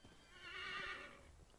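A horse in the video game Assassin's Creed 3 gives one clear, fairly faint whinny that rises and fades over about a second, heard alone without talk.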